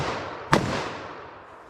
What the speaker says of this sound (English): So let's hit this with our 357 mag and see how that compares.